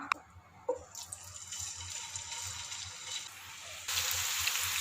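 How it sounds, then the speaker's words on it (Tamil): Marinated prawns fry in hot oil for a prawn biryani, giving a steady broadband sizzle with watery crackle that swells noticeably louder near the end; no voices. "இப்போ நம்ம ஏற்கனவே ஊற வச்சுருக்க இந்த ப்ரானை ஃப்ரை பண்ணி எடுத்துக்கலாம்"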